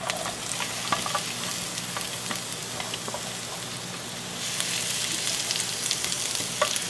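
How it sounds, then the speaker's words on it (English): Chopped onion sizzles in hot oil in a wok while being stirred, a steady bright crackling hiss with small pops that grows a little louder partway through, with no talking. "Hey, you can hear that sizzle."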